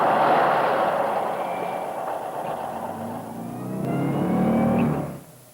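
A Volkswagen Beetle engine started with the ignition key, a loud, steady motor roar that swells slightly and then cuts off near the end, with no voices.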